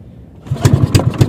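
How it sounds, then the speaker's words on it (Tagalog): A small fishing boat engine on a traditional crab-fishing trip in the Philippines sputters to life after a quiet start, giving a string of loud, uneven chugging pulses. "Parang naninibago ang ating makina."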